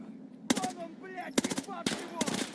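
Gunfire in the game Escape from Tarkov: three short bursts of rapid shots about a second apart, sharp and close, with faint echoes between.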